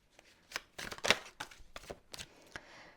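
Tarot cards shuffled by hand in a run of crisp riffling bursts and soft flicks over about three seconds, close and fairly loud, with no voice.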